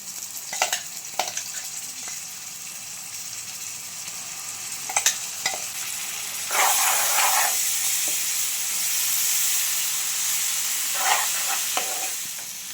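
Two spoons of ginger garlic paste frying in a pan for village-style gongura chicken: a loud, steady sizzle that swells partway through, broken by scraping and stirring clatters from a spoon, with no voices.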